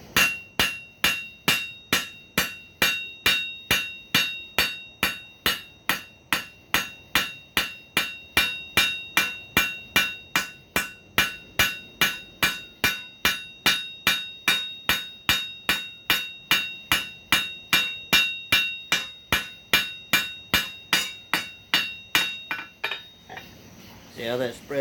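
A small cross peen hammer forging thin hot metal for a tong rack, striking in a fast, steady rhythm of bright ringing blows close by, dozens in a row with barely a pause, ending in some handling noise.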